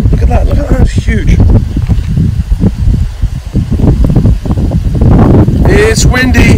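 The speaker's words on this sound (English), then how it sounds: "It's windy. Sorry if it's affecting the audio." Heavy wind buffets the microphone in loud, continuous rumbling gusts that cover the whole stretch, with no clear voices.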